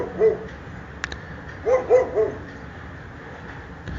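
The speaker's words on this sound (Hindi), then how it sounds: "न जाने क्यों दूर कहीं एक कुत्ता सर उठा के रो दिया।" A dog howls far off in the night, giving a few short, faint, wavering cries: one early, then a closer cluster of three, over a quiet background.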